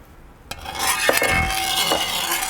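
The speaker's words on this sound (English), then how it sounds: "So now we're going to add water." About four cups of water pour into a one-pot pancit bihon noodle dish. A sudden rushing splash begins with a sharp knock, and scattered clinks of metal utensils and a faint sizzle run underneath, close and moderately loud.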